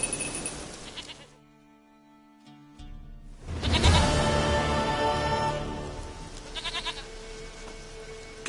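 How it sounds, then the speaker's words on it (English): A goat bleats several times in The Witcher 3 video game, a wavering, nasal cry rising after a brief lull and repeating with a shaky rhythm, close and fairly loud over faint ambient background. "Goat of mine, dearest, sweetest goat."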